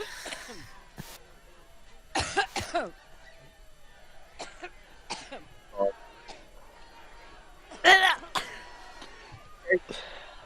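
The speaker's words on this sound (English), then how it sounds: "it's such a phlegmy cough" A phlegmy, wet cough breaks out in several harsh bursts with throat clearing between quieter stretches, the loudest fits near the middle and end, with some voices nearby.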